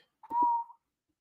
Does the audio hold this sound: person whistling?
yes